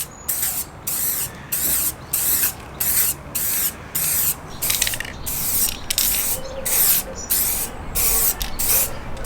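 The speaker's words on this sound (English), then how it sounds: "I'm just going to give it a couple test sprays." Acrylic grey primer from an aerosol can, used while refurbishing a Mk2 Focus ST scuttle panel: about a dozen short, hissing test sprays in a regular stop-start rhythm, close and fairly loud.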